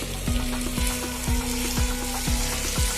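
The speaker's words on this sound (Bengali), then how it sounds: "এবার এর মধ্যে আমি দিয়ে দিচ্ছি ভেজে রাখা আলুর টুকরোগুলো।" Halved, pre-fried potato pieces sizzle loudly in a pan with quail bhuna, and a spoon scrapes and stirs in a steady repeating rhythm over the continuous frying hiss.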